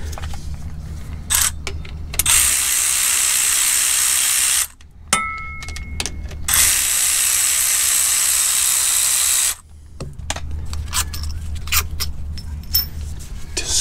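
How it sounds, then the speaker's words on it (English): Bolts coming out of a brake caliper on a Ford Crown Victoria, with long loud stretches of whirring power-tool spin broken by short pauses and quieter mechanical handling in between. "These two caliper bolts need to come out."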